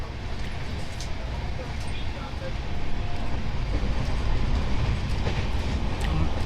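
Inside a moving passenger train, a loud, steady low rumble of wheels and carriage runs unbroken throughout, with faint rhythmic rail clatter underneath.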